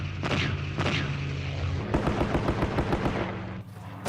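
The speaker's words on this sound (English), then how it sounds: "The aircraft made 3 heavy bombing and strafing runs." Staged combat reenactment with a booming aircraft bombing run followed by rapid bursts of machine gun fire, dense and continuous, heard at a distance with no talk.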